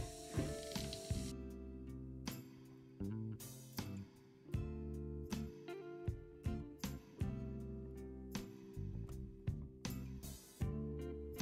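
Screws being tightened on a Holley 4180 carburetor from a 1984 Ford F250 4x4 during a rebuild: a steady run of close, clicky ratcheting bursts with short pauses, no talk.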